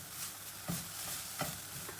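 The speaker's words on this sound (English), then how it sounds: "Remember, adding a bit of oil at a time if you feel your frying pan is getting too hot." Noodles fry in oil in a frying pan, with a steady broad hiss of sizzling and a few soft stirring knocks, close and moderately quiet.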